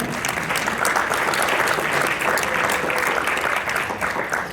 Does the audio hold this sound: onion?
no